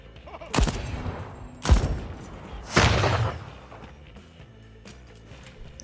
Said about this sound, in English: They keep throwing bombs at me.